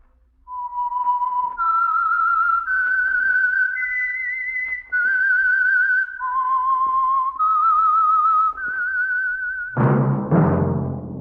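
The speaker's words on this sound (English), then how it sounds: "That whistle is your signal for the Signal Oil program, The Whistler" A bright, wavering whistled melody serves as the theme signal for The Whistler radio mystery program, a series of sustained tones stepping up and down, followed by a loud orchestral chord at the end.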